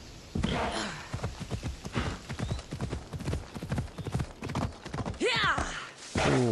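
Steady clip-clop of galloping horse hooves while riding in Assassin's Creed Odyssey, near and continuous, with a horse whinny rising near the end over the game's ambient sound.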